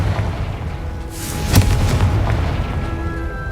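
Confringo blasting spell exploding in the video game Hogwarts Legacy, a single loud boom bursting out mid-clip over a steady rumbling game ambience, then a fading roar.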